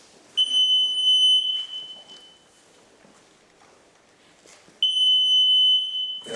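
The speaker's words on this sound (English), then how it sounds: "each time I approach an obstacle or an object, an alarm sound will go off" A shrill electronic alarm on a mobility device sounds loudly twice as it nears an obstacle, each a steady high-pitched tone lasting about a second, separated by a quiet pause.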